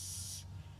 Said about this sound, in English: my setting spray, which is once again Anastasia Beverly Hills